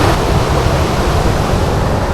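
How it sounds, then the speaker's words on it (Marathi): The perennial Sherpe waterfall near a glass bridge in Vaibhavwadi taluka, Konkan, Maharashtra, roars as a loud, dense, unbroken rush of water close by, with no voices. "जबरदस्त आवाज आहे इकडे धबधब्याचा जोरदार आवाज आहे"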